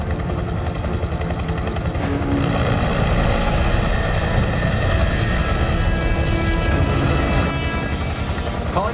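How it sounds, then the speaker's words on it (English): A civilian helicopter in a movie scene churns loudly and steadily with a rapid rotor chop throughout, a voice partly under the noise. "I'm in a civilian helicopter."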